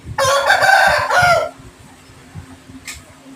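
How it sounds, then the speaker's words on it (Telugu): A powerful fighting rooster, a game cock, lets out one loud, close crow lasting over a second, followed by a few softer clucks and quiet movement. "చాలా శక్తివంతమైన కోడిపుంజు"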